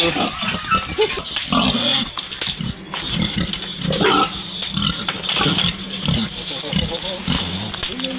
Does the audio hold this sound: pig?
yes